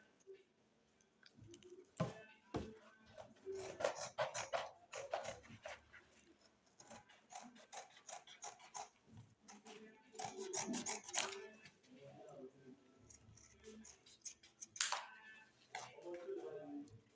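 Scissors cutting out a paper sewing pattern for a slip, giving irregular close snips and crisp paper rustles in bursts, fairly quiet and with no speech.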